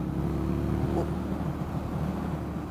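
An Indian FTR 1200 motorcycle engine pulls hard under acceleration, a steady, loud droning roar with wind rush heard from on the bike, continuous over a few seconds.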